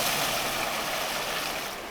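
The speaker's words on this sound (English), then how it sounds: "we fill our cleanup tub about half full of water" Water gushing into a gold dredge cleanup tub, a steady broadband rush and splash up close that eases slightly toward the end, with no voices.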